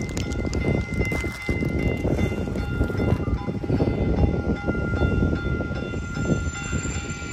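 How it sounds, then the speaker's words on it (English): Caltrain 614 rumbles into Santa Clara station in California, a loud, continuous roar of wheels and cars passing close by for several seconds. "Caltrain 614, final destination of that train is Tavian."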